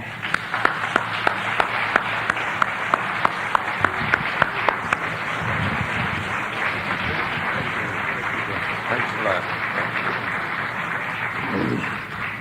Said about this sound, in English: I hope you'll give him a big round of applause by way of introduction